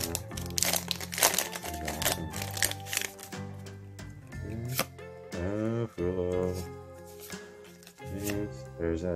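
Pokemon card pack wrappers torn and crinkled open, a run of crackling and rustling under background music, with a person talking.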